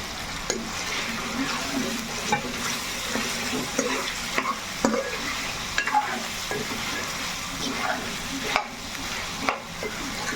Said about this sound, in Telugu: ఇక్కడ కొంచెం కరివేపాకు కూడా వేసుకుంటున్నాను ఆ నూనెలో అనేది కరివేపాకు వేగిద్ది కాబట్టి వేసుకుంటున్నాను